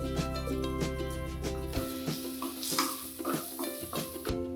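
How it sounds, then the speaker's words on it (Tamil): Masala mixed with oil is stirred in a pan while cooking mutton kuzhambu, a steady sizzle under repeated scraping strokes of a spoon against the metal, with some clinks and brief low tonal sounds early on. "இந்த மசாலாவை நல்ல எண்ணெய் கூட சேர்த்து போட்டு நல்லா கிண்டணும்"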